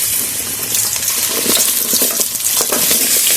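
Cut pumpkin pieces frying in hot mustard oil in a kadai, giving a steady, loud, close sizzle with bubbling crackle and light scraping throughout, no voices.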